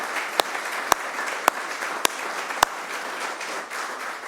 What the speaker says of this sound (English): How about a round of applause for our team?